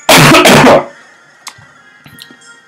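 A short, loud burst of coughing, close to the microphone, lasting under a second, followed by faint scattered clicks and near silence.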